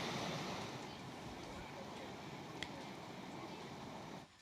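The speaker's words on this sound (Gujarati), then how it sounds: "વોકળામાં પણ વરસાદી પાણી વહી રહ્યા છે" Rainwater rushing through a stream channel in Ahwa, Dang, during continuous monsoon rain, a steady broadband roar of flowing water with a windy, surf-like hiss that holds constant throughout and cuts off abruptly at the end.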